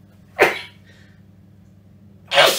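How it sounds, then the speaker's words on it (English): A person's sneeze heard close up in a quiet room: a sharp breathy burst, a hushed pause with low background hum, then a second, louder explosive burst at the end. "I'm going to sneeze."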